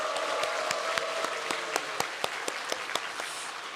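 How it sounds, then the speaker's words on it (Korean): A church congregation at a Friday prayer service applauds to welcome the young people, a steady wash of many hands clapping with a few sharper individual claps standing out, sustained throughout at moderate distance. "박수로 우리 청년들 다음 세상도 환영합니다"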